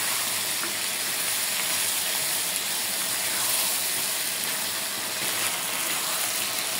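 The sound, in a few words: taro stolons stirred with spices in hot oil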